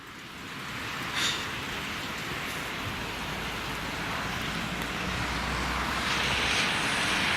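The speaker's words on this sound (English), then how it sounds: "This rain is coming down" Heavy rain pouring down outdoors, a steady, dense hiss of drops hitting surfaces that holds loud and even throughout, with no voices.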